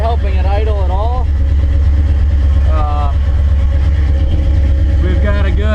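A 1968 Chevy C10 pickup engine with FAST EZ EFI fuel injection idles on its own in a steady low rumble, close by, while a person talks over it.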